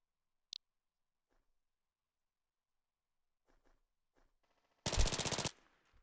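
Burst of rapid automatic gunfire in an online shooter game, about half a second of close, loud rounds near the end, preceded by a single sharp click and some faint muffled game noises.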